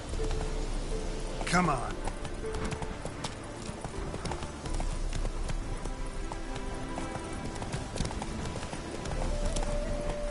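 A horse gallops in a PS4 video game, with rapid clip-clop hoofbeats running steadily through the whole stretch while a voice speaks briefly over them.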